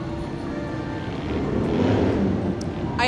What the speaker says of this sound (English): I hear the motorcycles from the Free Spirit Motorcycle Ministry Group.